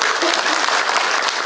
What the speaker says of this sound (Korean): 소개해 드릴 때마다 큰 박수를 부탁드리겠습니다